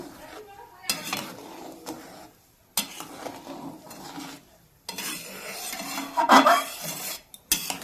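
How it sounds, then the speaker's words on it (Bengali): Fresh hilsa fish curry bubbling in a pan, with lemon juice added and stirred; clattering spoon scrapes and pot knocks over a soft simmer, close up, with someone speaking between the sounds. "তো মাছটা দেওয়ার পরে কিন্তু ফুটে গেছে এবার লেবু রসটা যে আমি বের করে নিয়েছি লেবু রসটার উপর দিয়ে দিয়ে দেব"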